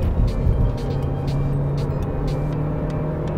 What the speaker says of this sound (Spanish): Pongo la palanca en D, voy a fondo. Hay un pequeño lag, pero una vez coge el turbo, acelera muy bien.